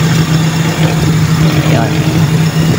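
A carbureted Toyota Corolla 4AF engine idling on its cold start system, with a steady low hum holding an even pitch, loud and close, with no voices over it.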